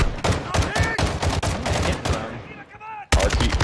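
An RPK machine gun fires in Call of Duty Warzone 2.0 DMZ, in rapid, loud automatic bursts that pause briefly near the end, then resume, with faint voices underneath.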